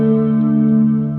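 Ambient electric guitar sustaining a chord through a big reverb with pre-delay, the tone held loud and smooth before fading slightly, with no voices.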